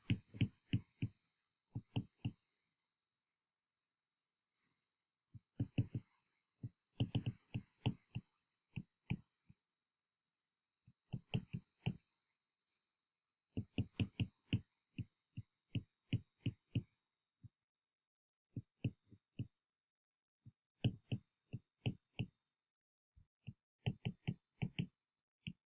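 Chalk or marker tapping and scratching on a board as a cross product is written out in a physics lecture, sharp clicks arriving in short irregular clusters separated by quiet gaps.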